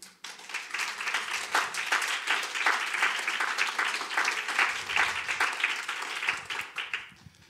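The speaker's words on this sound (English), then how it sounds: "let's give him a hand clap" A church audience at a midweek Bible study applauds, with sustained hand clapping that fills the room continuously for several seconds before tapering off, with no talk over it.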